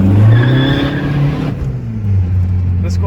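A Volkswagen Polo 1.9 TDI driven hard, its diesel engine droning loud and close with strained, rising harmonics, then easing slightly as the car keeps pulling with steady road noise.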